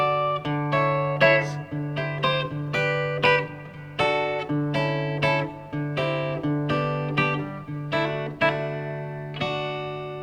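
An electric guitar with a slightly driven tone plays a sequence of chords in a steady rhythm, each strum ringing briefly before the next.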